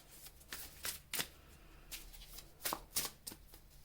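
Tarot cards being shuffled for a reading, a series of quick papery riffling bursts in an irregular rhythm, close and fairly quiet, with no talking.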